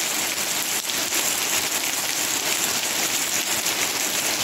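Steady rain shower falling in Sunderland, a dense, even hiss of drops on surfaces that holds at the same level throughout with no voices.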